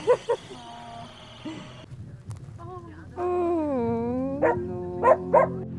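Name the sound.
stray dogs barking and whimpering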